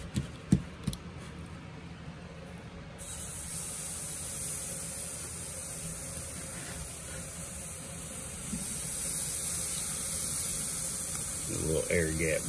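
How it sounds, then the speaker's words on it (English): Heavily seasoned steaks hitting a hot Kamado grill set off a loud, steady hiss that jumps up abruptly and holds, with faint talk and clatter beneath it. "I'm going to watch him put them on the grill right now"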